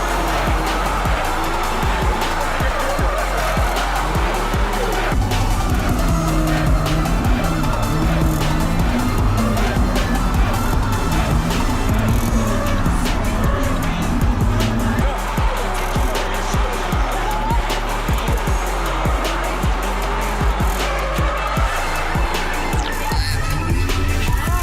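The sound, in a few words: Mazda MX5 Miata drift car skidding, tires squealing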